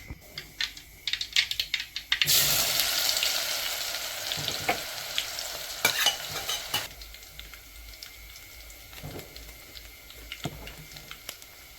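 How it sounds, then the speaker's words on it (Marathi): Garlic, cumin and mustard seeds tempering in hot oil in a pan: a sudden loud sizzle bursts in after a few sharp clicks and taps, then settles into steady crackling frying with scattered utensil knocks, no talk. "एका पातेल्यामध्ये तेल टाकून थोडं जिरं आणि मोहरी टाकून फक्त आपल्याला लसणाची फोडणी द्यायची आहे"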